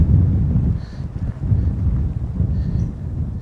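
A strong breeze buffets the microphone outdoors at a model aircraft flying session, making a loud, continuous low rumble that surges and eases throughout and has no speech over it.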